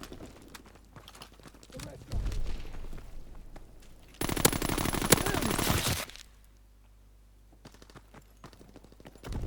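Rifle and automatic gunfire in Call of Duty: WWII multiplayer, with a loud dense burst of shots in the middle and scattered single cracks before and after, heard under occasional talk.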